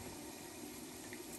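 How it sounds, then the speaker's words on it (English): Water being poured slowly into coconut milk powder, a steady continuous close-up pour and splash with no talking. "I'm slowly adding the water to the coconut milk powder,"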